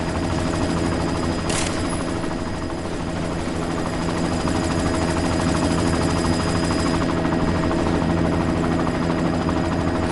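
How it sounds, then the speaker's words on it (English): Helicopter in the video game Deus Ex: Mankind Divided, a loud, steady rotor drone with engine hum that fills the whole stretch, with a brief sharp burst near the start and possible gunfire mixed in. "You've got to stop that chopper."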